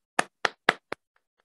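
Four sharp, close hand claps spaced about a quarter second apart for a student at a 2021 kindergarten graduation, followed by two faint, distant taps and then silence.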